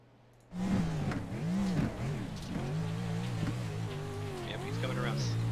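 A Pro4 race car lapping the Wild Horse track during a High Octane Racing Series East Coast race, engine rising and falling through gears and corners, loud and steady under continuous commentary.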